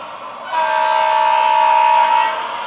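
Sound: model train running on track

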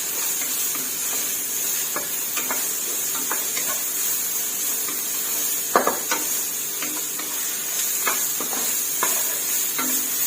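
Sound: stir-frying minced pork in a pan

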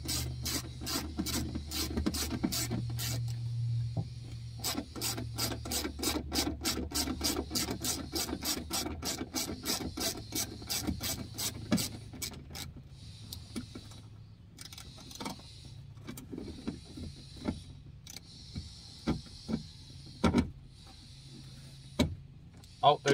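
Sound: removing window regulator motor bolt, Saturn Vue

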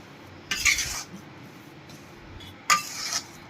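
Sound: stirring jaggery into flour mixture for sukhdi

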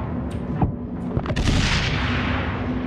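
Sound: gunshot in video game Inside

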